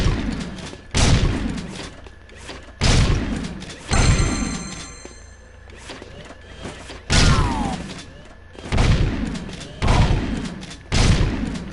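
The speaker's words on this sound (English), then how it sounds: "I'm just trying to show off the gun a little bit, because the gunplay is different than the first one." Gunfire in the video game Jak II, a series of loud, broadband blasts repeating roughly every one to two seconds, each with a booming low end and short decaying tail, with mechanical clicks and a brief tonal whine between shots.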